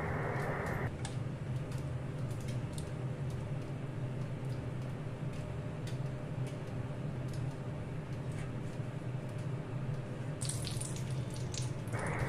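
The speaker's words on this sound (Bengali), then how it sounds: "ভাজা পনিরগুলোর মধ্যে নর্মাল টেম্পারেচারে রাখা জল দিলাম" Tap water runs steadily into a vessel of fried paneer pieces, a continuous even splashing flow with no voices, ending in a brief brighter hiss near the close.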